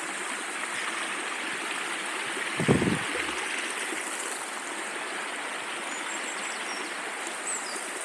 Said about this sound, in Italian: il rumore del torrente, del ruscello.